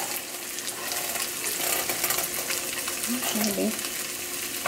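A cheddar cheese taco shell sizzles steadily in a pan, a dense close crackling hiss that continues as it is flipped, with a brief spoken word near the end.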